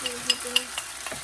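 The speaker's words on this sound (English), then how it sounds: "Give it another stir." Chicken fried rice is stirred in a pan, a spoon scraping and tapping through the food in quick strokes over a soft sizzle.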